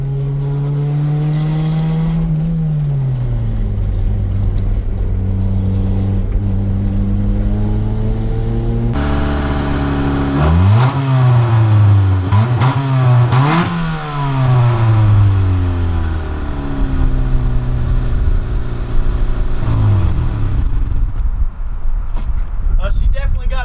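A revived barn-find Honda CRX Si, its formerly seized engine back running after more than ten years, revs in loud rising and falling bursts close to the microphone, with throttle blips, wind buffeting and someone talking at times.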